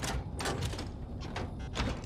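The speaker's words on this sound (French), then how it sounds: "La porte est verrouillée." A locked door rattles and clatters in the video game Dying Light 2, with repeated short knocking bursts over a steady, dense game backdrop.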